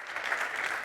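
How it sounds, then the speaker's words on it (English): Audience applause at a sports sustainability summit, a steady wash of clapping held evenly through a short burst with no voices over it. "Give them a big round of applause, everyone"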